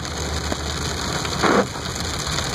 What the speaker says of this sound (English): it is pouring down the rain too